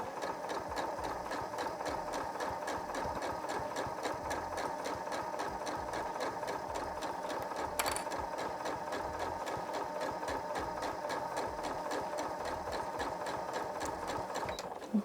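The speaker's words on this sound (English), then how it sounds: "As always, back stitching at the beginning and end." Sewing machine running steadily as it stitches a fabric scrunchie, a fast continuous mechanical whir with rhythmic needle clatter, close and even throughout with one brief sharper tick midway.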